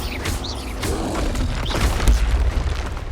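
A Confringo fire blast spell in Hogwarts Legacy bursts with deep booming impacts and crackling pops, several blasts landing in quick succession amid combat effects.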